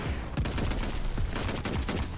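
Rapid bursts of M1916 rifle fire in Call of Duty Vanguard multiplayer, a fast string of sharp close shots with brief pauses, loud and continuous over in-game music and ambience, with no speech.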